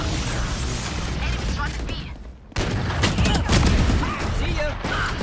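Gunfire in a tactical shooter video game crackles in dense bursts of rapid shots with a short lull midway, loud and continuous over game audio.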